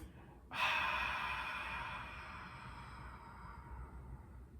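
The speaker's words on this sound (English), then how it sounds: "We are going to exhale fully through the mouth." A long, full exhale through the mouth during a breathing exercise for diastasis recti, a steady breathy rush that starts abruptly and slowly fades, close and fairly quiet.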